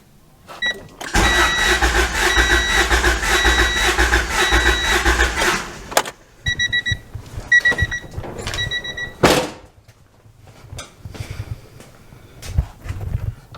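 A Honda engine cranks over steadily for about five seconds during a wet compression test with oil in the cylinder, followed by a few short clicks, shuffling and workshop noises.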